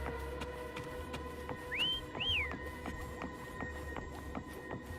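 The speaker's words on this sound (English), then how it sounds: "Try whistling." A two-note whistle calling a horse named Foam in a video game, rising then falling, clear and close, heard once over a steady humming background of game ambience.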